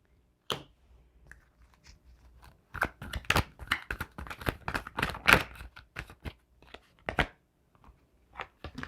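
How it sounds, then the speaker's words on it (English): A deck of tarot cards is shuffled by hand, giving irregular bursts of crisp card slaps and riffling flutters, close and quiet, with short pauses between the handfuls and no talking. "I gotta shuffle this deck better"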